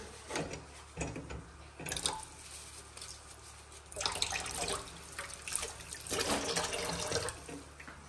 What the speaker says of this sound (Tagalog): Ibabad ko muna ito sa tubig. Sa sabon.